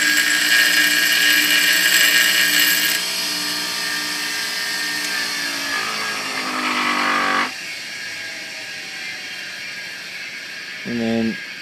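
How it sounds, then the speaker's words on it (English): A stand-up bench grinder grinds down SR20 dual rocker guides, giving a loud steady whine with harmonic tones that shift as the part is pressed on, then the motor cuts and spins down, followed by a brief low thump. "So I'm just gonna grind them down a little bit till they fit."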